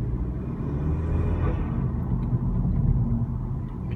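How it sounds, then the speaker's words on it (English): Engine of a 2016 Honda Civic turbo fitted with a short ram intake, heard from inside with the windows up: a steady, loud low rumble while driving, with a faint airy hiss from the intake around the middle. "Can really hear that turbo, you know, just when you let go of the gas, you can just hear the release of air."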